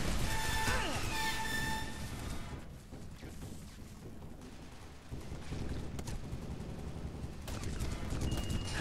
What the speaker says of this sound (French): Wow, la grenade!